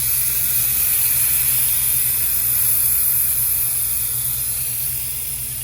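Steam wand of a Breville Bambino espresso machine purging over the drip tray in a coffee bar, a steady loud hiss of steam that holds for several seconds and eases slightly at the end.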